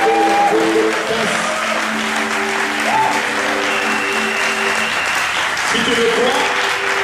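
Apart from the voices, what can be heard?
congregation applause, standing ovation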